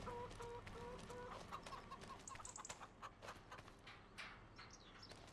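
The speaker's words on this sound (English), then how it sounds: "Ooh, chickens. Don't run into them." Chickens cluck in Farming Simulator 25 on a farm, a scattered run of short clucks and chirps over a low steady background rumble, fairly close and without talk.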